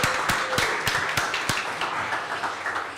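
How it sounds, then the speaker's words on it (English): Applause for Ray Flores at a live sports talk event, with a few distinct sharp claps standing out over a steady, dense wash of hands that carries evenly to the end, with no talking over it. "how about we give him a round of applause?"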